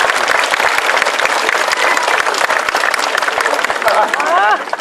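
A crowd applauds at an outdoor bear show in Châteaudun: loud, continuous clapping mixed with chatter and voices, and a rising whistle-like tone near the end.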